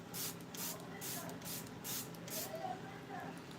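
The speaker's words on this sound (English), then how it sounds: "I'm gonna spray my face" Makeup setting spray misted onto a face in about five short, loud hissing bursts, close and regularly spaced, with someone talking softly underneath.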